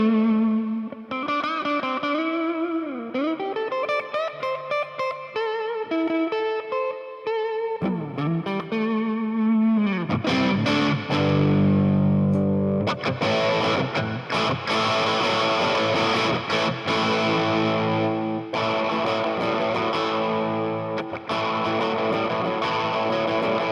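Jackson JS22 Monarkh electric guitar played through distortion with warm high-output pickups, opening with bending single-note melodic lines, then heavy crunchy chords and riffs with rhythmic palm-muted chugging, loud and sustained.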